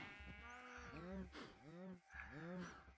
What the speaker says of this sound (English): I got lots of little moo cows here.